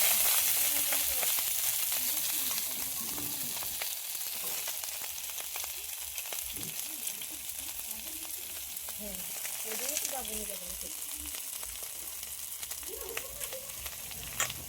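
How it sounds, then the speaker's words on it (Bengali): Vegetable stems and bottle gourd greens sizzle steadily in a hot wok after a spice tempering, a continuous crackling fry with occasional stirring while someone talks over it. "ফোড়ন দিয়ে সমস্ত ডাঁটা ও শাকগুলো তুলে দেব"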